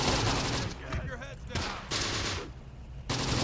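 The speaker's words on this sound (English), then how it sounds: "That is some heavy fire." Heavy gunfire and mortar fire in the Close Combat: The Bloody First war game, with rapid machine-gun bursts and sharp blasts crackling densely throughout, loud and close, under occasional voices.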